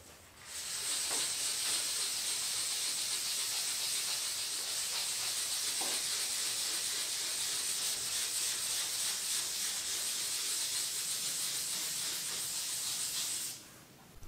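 Car paint lifting off in patches is feathered by hand with 400-grit sandpaper, giving a steady, close, hissing scrape that runs continuously for about thirteen seconds before stopping.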